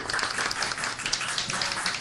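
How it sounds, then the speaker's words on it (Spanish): Audience applause for a literary panelist at a Mexican science fiction anthology presentation, a steady wash of many hands clapping at moderate loudness throughout, with no voices over it. "Damos un fuerte aplauso, por favor, para Julio María."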